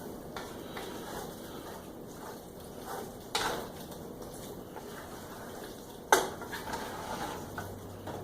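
Quiet scraping and stirring in a dish of tater tot hotdish, with soft utensil movements and a couple of sharper clinks of a spoon against the dish.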